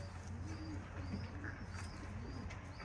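Racing pigeons coo softly and repeatedly inside a loft, a low, quiet murmur of overlapping calls with no talking.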